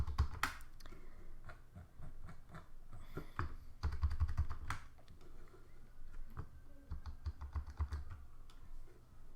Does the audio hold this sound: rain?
no